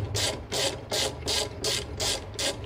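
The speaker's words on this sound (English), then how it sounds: "This gear wrench tap and die set." GearWrench tap and die set ratcheting while cutting a 7/16-20 thread, seven evenly spaced bursts of close, crisp clicking, each about a quarter second long, in a steady back-and-forth rhythm.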